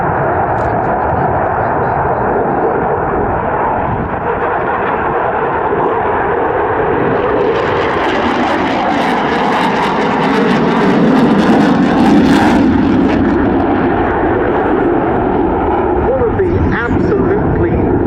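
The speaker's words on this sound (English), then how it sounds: "This is a maneuver known as the square dance. The aircraft describing a square in the sky." A French Air Force Rafale jet flying a square dance manoeuvre at an airshow, a loud, continuous roaring engine whose tone shifts and swells as the aircraft changes direction, with a commentator talking over it.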